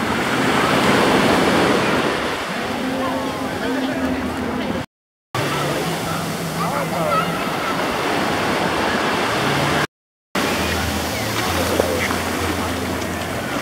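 Big ocean waves roll in at Waikiki Beach, Hawaii, where crowds swim in warm water, making a steady, loud roar of surf with wind noise and faint voices underneath.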